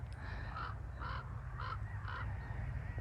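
Crows caw in the morning, four evenly spaced calls from some distance over a steady low background hum.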